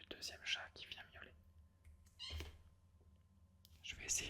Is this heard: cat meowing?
yes